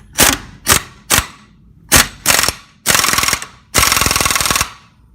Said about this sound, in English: let's get the impact on it